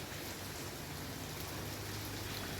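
Light drizzle falls steadily over a market street at night, a continuous soft hiss of fine rain with no voices.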